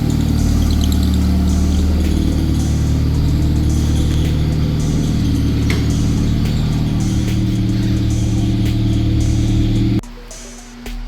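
A CB7 Honda Accord with a swapped F23A engine idles loud and close in a garage, a steady even rumble that drops off suddenly near the end.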